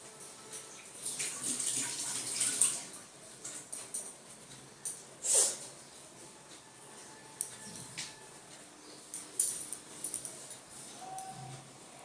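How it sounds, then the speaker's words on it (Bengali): Hands are washed under a running tap in a home kitchen during cooking, a soft, fairly faint splashing and trickling of water with uneven rubbing and dripping. "হাত ধুই"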